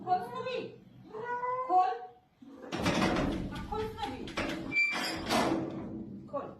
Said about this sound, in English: She trained her cats to open the door in case she ever got locked out.